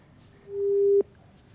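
A single steady electronic tone on a phone line sounds for about half a second after a call with an official in Shahabad is cut off, then ends abruptly with a soft click in quiet surroundings.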